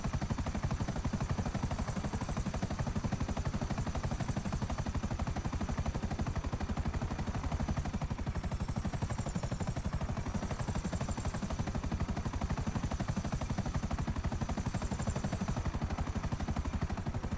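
Video game helicopter in flight, a continuous loud rotor chop with a rapid even beat and a steady high whine above it, running throughout with no talk.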